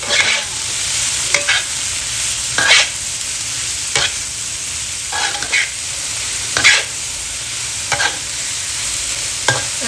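Onions stir-fry in oil in a pan with no water added, giving a steady close sizzle broken by regular scraping strokes of the spatula every second or so.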